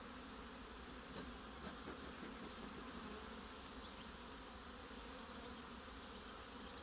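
A faint, steady drone of honeybees buzzing at the hive carries on throughout with no talk.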